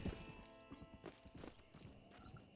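Horse hooves clip-clop at a walking pace in the Red Dead Redemption video game, a steady run of light, fairly close knocks with a faint whinny-like tone and quiet game ambience beneath.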